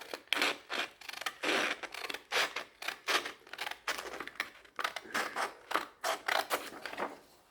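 Hand sanding a stuck brake caliper on a Yamaha Raptor 350 ATV with 220 grit sandpaper, a rapid series of short scratchy rubbing strokes in an uneven rhythm, close and fairly quiet.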